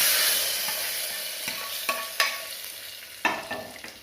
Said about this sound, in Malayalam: കടുക് പൊട്ടി ഇനി നമുക്കിത് ഈ കറിയിലേക്ക് ഒഴിച്ചു കൊടുക്കാം.